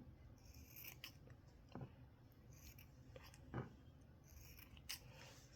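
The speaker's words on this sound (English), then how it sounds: "Once that's completed, we cut the threads off." Scissors snip threads off fabric while sewing statement bonnets, giving a few quiet, separate crisp cuts spaced a second or two apart in a hushed room.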